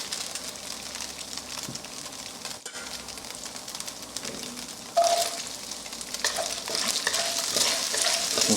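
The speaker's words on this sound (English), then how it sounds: "We're now going to add the rest of our oil" Onions frying in oil in a pan for a beef stir fry, a steady sizzle and crackle with occasional stirring scrapes, growing louder and brighter midway as more oil goes in.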